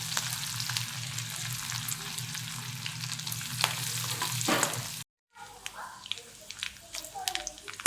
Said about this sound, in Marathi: असा लसूण लाल होतोपर्यंत थोडासा परतून घ्यायचा चांगला